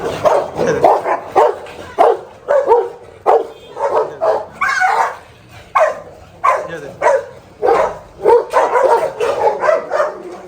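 A German Shepherd barks loudly and repeatedly at close range, in a fast, steady series of barks with only brief gaps.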